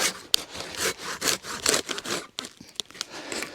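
Timber is cut by hand with a folding saw at a wild camp in a UK forest, giving close, rhythmic rasping strokes with short pauses between them.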